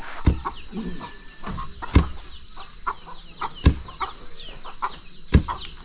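Chickens cluck and call inside a small homemade coop in a village near the Laos–Vietnam border, with repeated sharp squawks over a steady high insect-like drone and busy outdoor background.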